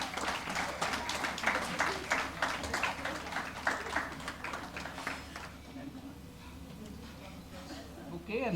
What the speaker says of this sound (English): we request our guests to welcome them with great round of applause